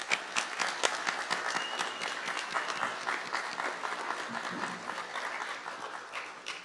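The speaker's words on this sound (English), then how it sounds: "Please join me once again in applauding all of our new Honor Society members and our graduating seniors." Audience applauding new National Honor Society members and graduating seniors at a high school induction ceremony, a steady, dense wash of many hands clapping throughout, fairly distant and even, tapering slightly at the end.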